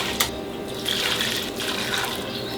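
Water pours steadily into a pot over chicken drumsticks, a close, continuous splashing stream with no talk.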